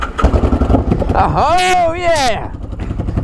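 Motorcycle engine bought at auction, cranking and catching, then revving up with a loud rising and falling whine before settling into a running note, close by, with a voice exclaiming over it.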